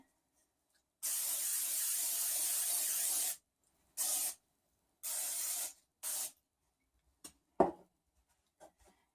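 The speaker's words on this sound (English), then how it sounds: "we're going to spray now so that these bad boys don't stick" Cooking spray hisses onto a baking tray in one long burst, then two shorter sprays, followed by a few light clicks and taps.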